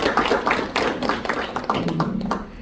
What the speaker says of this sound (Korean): 좀 더 따뜻한 박수 해주시면 감사하겠습니다.